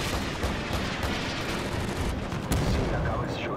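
AC-130 gunship firing in a video game: a dense, continuous barrage of heavy rumbling gunfire and booms, loud and sustained throughout with one sharper blast near the end.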